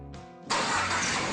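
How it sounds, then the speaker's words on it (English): A Chrysler car engine cranks briefly with a whirring starter, then catches and fires into a loud, steady running rumble close by. "Verify your work by starting the engine."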